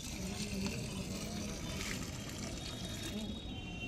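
Water poured from a jug onto a plant gives a steady, close splashing rush that runs unbroken for a few seconds, with voices murmuring in the background.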